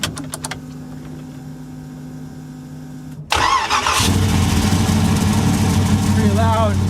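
A 1986 Mercedes 560SL fitted with a 5.3 LS V8 is cranked and fires up at about three seconds, settling into a loud, steady, rumbling idle close by after a quiet lead-in.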